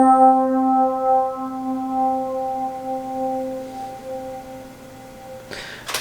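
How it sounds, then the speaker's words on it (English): A Bright FM Piano electric piano preset plays a sustained chord with bell-like, glassy overtones that slowly fades out alone, with a brief noisy burst at the very end. "Now this next sound is in E pianos and clav, and it's called Bright FM Piano."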